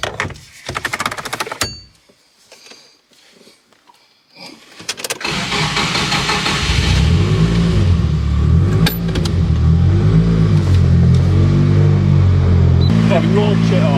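A car with a forged SR20DET engine is started and revved as it is driven up onto a trailer, its loud rough idle and rising revs following a door clunk and talk.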